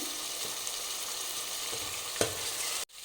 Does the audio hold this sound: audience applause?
no